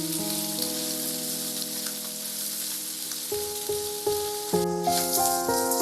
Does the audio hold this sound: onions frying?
yes